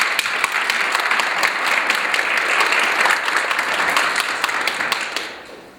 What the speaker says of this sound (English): Please join me in welcoming back to campus Dr. Henry DePhillips.